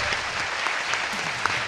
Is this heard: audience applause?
yes